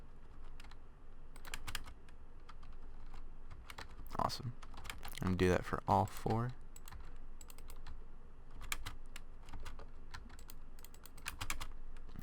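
Fast, light clicking of keys on a PC keyboard continues steadily throughout, close and fairly quiet, while a person speaks briefly over it partway through.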